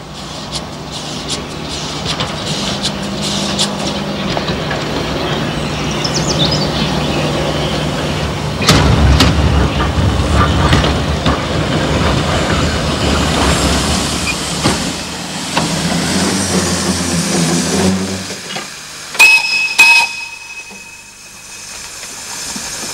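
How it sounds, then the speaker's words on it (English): Beyer Peacock narrow gauge steam locomotives and their train rattle through orange groves on a coastal plain near Gandia, Spain, a steady loud rumble and clatter of wagons with shifting rhythm, a brief whistle-like tone near the end as it fades. "the Bayer Peacock veterans rattle through the orange groves"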